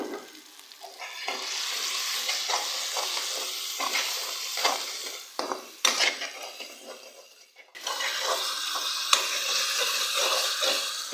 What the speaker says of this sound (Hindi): अब मैं इसमें ऐड कर रही हूँ कुछ मसाले, जिनमें शामिल है लाल मिर्च का पाउडर, नमक और हल्दी।